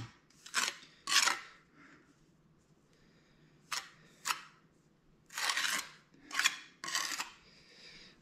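Scissors cutting material while stone veneer is being laid, with several separate crisp snipping bursts in irregular pairs separated by quiet pauses, close and fairly loud.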